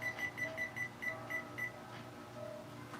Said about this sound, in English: Place a timer.